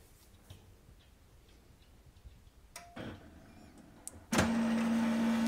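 An HP LaserJet MFP M234sdw printer starts scanning document pages: quiet clicks and ticks build to a whir, then a loud steady mechanical drone with a strong hum kicks in and runs to the end.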